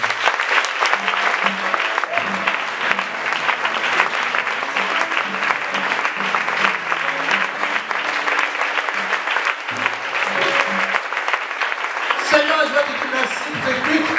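A church congregation claps and cheers during a worship service, sustained applause from a large crowd of people over a steady beat with voices mixed in throughout.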